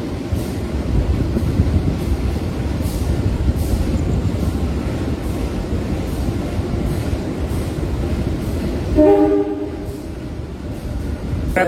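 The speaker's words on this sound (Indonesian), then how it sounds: "Kereta api Kauripan sekarang tiba di stasiun Karanganyar" The Kahuripan economy-class passenger train rumbles steadily nearby as it arrives at Karanganyar station, with rolling wheel noise, and a brief horn-like tone sounds near the end.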